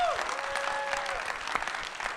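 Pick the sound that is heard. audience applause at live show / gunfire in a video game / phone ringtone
audience applause at live show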